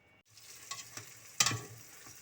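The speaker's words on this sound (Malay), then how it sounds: "Kita kacau sampai orang tua dulu kata sampai naik minyak kan." Curry cooked in a pan with a spoon stirring it until the oil rises, a soft sizzle broken by several scraping stirs, the loudest near the middle, close by.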